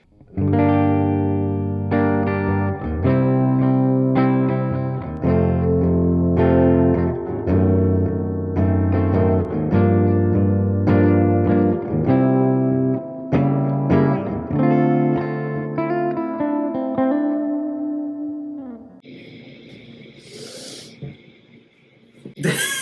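A distorted electric guitar plays a run of loud chords and single-note riffs close up, ringing out for about twenty seconds before fading to a quieter, noisy tail with a brief scrape at the end.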